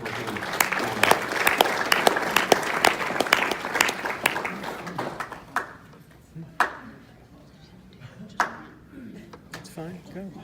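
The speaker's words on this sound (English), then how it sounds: "Give him a round of applause." A banquet audience at a Chamber of Commerce Person of the Year event bursts into loud applause for Mayor Pro Tem John Barton, which fades into scattered claps and taps as a voice speaks over it.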